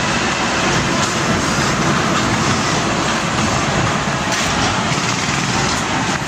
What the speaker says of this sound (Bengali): এই হচ্ছে সেই স্কাই ট্রেন।